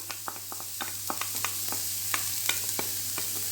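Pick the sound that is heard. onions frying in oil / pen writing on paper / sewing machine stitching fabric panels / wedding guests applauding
onions frying in oil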